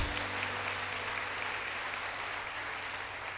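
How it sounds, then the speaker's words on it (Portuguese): Steady, dense applause from a church congregation, a continuous wash of many hands clapping at moderate volume, heard without speech on top. "Aplauda ao Senhor Jesus."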